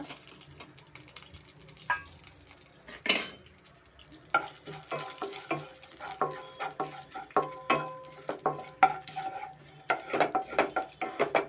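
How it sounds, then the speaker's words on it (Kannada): Fennel, poppy seeds, pepper, cinnamon and cloves frying in oil over medium heat, with a soft sizzle under repeated scraping and stirring clinks from a utensil in the pan, fairly close. "ಸೋಂಪು ಗಸಗಸೆ ಮೆಣಸು ಚಕ್ಕೆ ಲವಂಗ ಇಷ್ಟು ಸ್ವಲ್ಪ ನಾನು ಎಣ್ಣೆಯಲ್ಲಿ ಫ್ರೈ ಮಾಡ್ಕೊತಾ ಇದ್ದೀನಿ"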